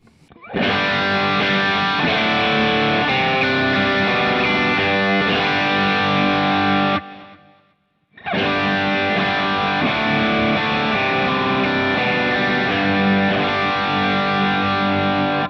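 A distorted electric guitar riff plays loud and sustained through an amp, cutting out briefly near the middle before resuming with the same driven tone.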